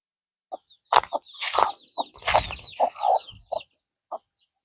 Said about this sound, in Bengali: এই হচ্ছে মুরগি তো মরুভূমিতে